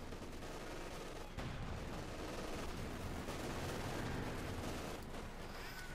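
Machine guns fire in sustained bursts in Company of Heroes 2, a dense, continuous rattle with faint distant booms layered beneath, no voices present.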